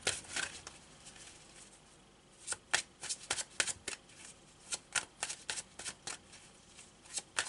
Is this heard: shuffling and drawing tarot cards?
yes